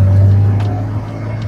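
A Toyota Corolla with a 2ZZ engine runs close by, giving a loud, steady low hum. The hum fades slightly toward the end, with faint higher mechanical whirs over it.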